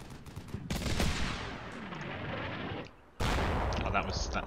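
Gunfire from an Atlas unit in the combat video game Combat Mission Shock Force 2, heard as loud dense bursts of shooting that drop briefly to near silence before another sharp volley, with no speech.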